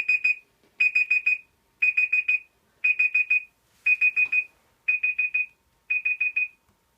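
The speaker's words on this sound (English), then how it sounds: "That seriously sounds like a fire alarm." A shrill electronic alarm resembling a fire alarm goes off in seven rapid bursts of four or five quick beeps each, separated by short pauses, loud and close, with a soft puff heard in the middle.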